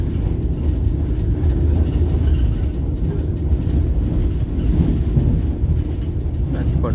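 A Vande Bharat Express on the Mangaluru to Mumbai run rumbles along the rails in a continuous low, even drone, heard close and steady from on board.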